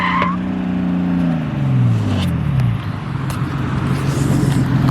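A turbocharged BMW E36 engine misfiring revs and drops with a rough, uneven sputter and occasional sharp pops, loud and close, with no talking.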